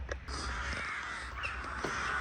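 Crows cawing repeatedly at a rainy outdoor bus stop near Krakow, a flock calling in bursts over steady rain and traffic hiss, fairly close and continuous.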